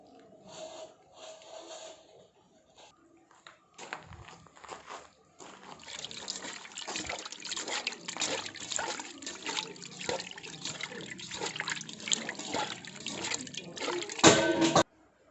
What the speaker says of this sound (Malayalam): ഇച്ചിരി നല്ല വെള്ളത്തിലൂടെ ഒന്ന് കഴുകിയെടുക്കണം ഈ മീൻ